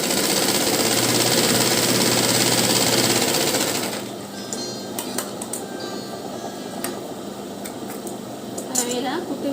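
A sewing machine runs in a fast, loud, steady burr for about four seconds while stitching a blouse lining, then stops, leaving faint handling clicks and fabric rustles nearby.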